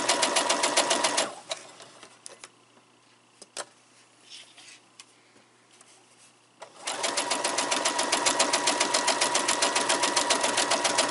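Sewing machine stitching quilt pieces at medium speed, a fast steady needle clatter that runs briefly, pauses for several seconds of near quiet with small clicks, then resumes and carries on, close up with no talking.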